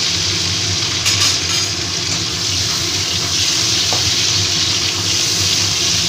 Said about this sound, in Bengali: আমি পটলগুলো একটু ভেজে নেব, তারপর আলুগুলো ভাজবো